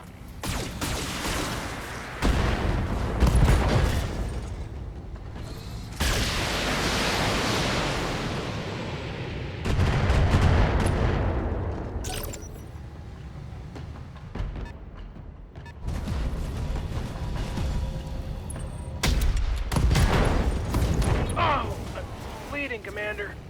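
Mech weapons fire in the BattleTech video game in heavy, noisy bursts: loud blasts and crashing impacts come in several waves separated by short gaps, with game sound effects throughout.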